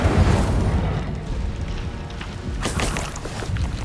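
The Incendio fire spell is cast in the Hogwarts Legacy video game, producing a sustained roaring, rumbling burst of flame with crackling bursts toward the end.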